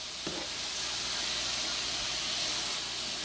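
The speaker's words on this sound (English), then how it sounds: "Look at those onions caramelizing." Onions and mushrooms caramelize in a hot pan, giving a steady, close sizzle and frying hiss that runs throughout with a brief stir near the start.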